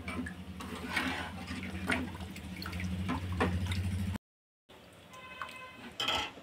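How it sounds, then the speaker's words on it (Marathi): Water goes into a pot of cooking mixed dal to thin it, a close trickle and splash with light clinks of pans and utensils, then a brief silence before more splashing. "पाणी टाकून घ्यायचं आहे कारण आपण ही डाळ बट्टी सोबत खाणार आहोत"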